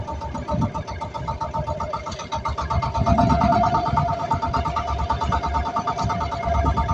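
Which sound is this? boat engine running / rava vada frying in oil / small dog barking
boat engine running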